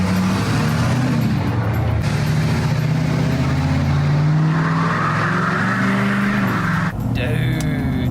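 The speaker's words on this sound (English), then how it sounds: "that engine brake works amazing" A 2020 Jeep Gladiator Rubicon truck's engine drones steadily while engine braking as it hauls a load, a loud continuous low hum with road noise, and voices speak over it.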